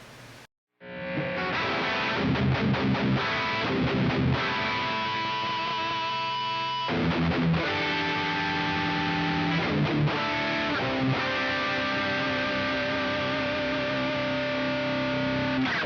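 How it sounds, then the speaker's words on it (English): Dry electric guitar played through a Poly Effects Beebo multi-effects pedal running a power amp and cab sim with Endall cab IRs: a steady, moderately loud stream of strummed chords and riffs with a brief gap near the start, no voices. "my first chain is my dry sound, so it's just a power amp and a cab sim running IRs from Endall cabs"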